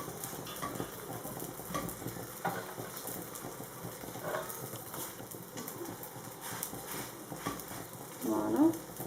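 A Moroccan msemen pancake cooks in a pan and is turned with a spatula, with soft sizzling and scraping, light clatters of the utensil, and a louder scrape near the end.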